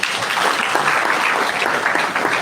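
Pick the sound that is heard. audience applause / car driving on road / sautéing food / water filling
audience applause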